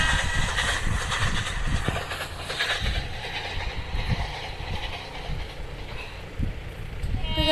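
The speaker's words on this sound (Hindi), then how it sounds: "ट्रेन आ रही है कहीं पे" A train rolls past in an Indian train simulator game, a continuous loud rumble with rhythmic wheel clatter that holds steady for the whole stretch.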